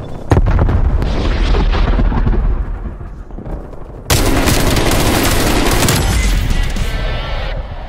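Grenade explosion in Call of Duty amid a firefight, starting with a sharp impact and rattling gunfire, then a sudden loud, broad roaring blast that sustains and slowly fades, close and dominant.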